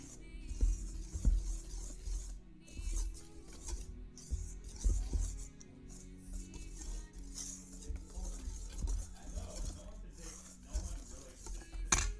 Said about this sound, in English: So now I'm just going to take a wire whisk to that.